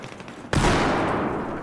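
Gunfire striking a wall in the Battlefield 4 video game: a short quiet lead-in, then a sudden loud burst of automatic shots that continues densely to the end.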